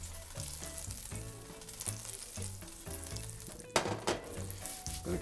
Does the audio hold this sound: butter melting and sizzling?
yes